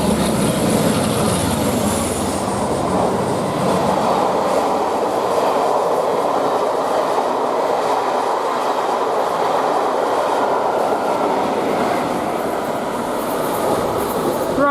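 A tourist train passes through Waterbeach station, a loud continuous rumble of wheels and rails close by, holding steady with no talk throughout.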